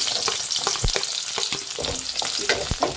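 Onions fry in hot oil with fenugreek, a constant close sizzle broken by irregular scraping knocks as they are stirred in the pan.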